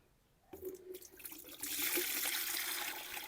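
Water poured off soaked tomato seeds in a container: a soft start, then a steadier, fuller splashing stream that keeps running, quiet and close.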